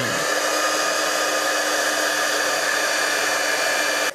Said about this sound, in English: now I'm going to take my heat tool and I'm going to heat this up until it is shining